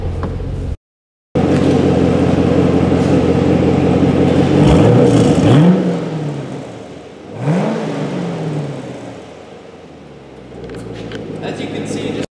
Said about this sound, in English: I'm just gonna jump in it real quick so you can hear the engine roar a little bit